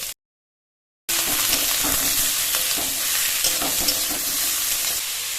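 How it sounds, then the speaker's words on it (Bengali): Chopped chicken mince hits hot fried spices in a pan, setting off a loud, steady sizzle with frying hiss and faint stirring clatter after a short silent gap. "এবার এর মধ্যে চিকেন কিমা দিয়ে দেবো।"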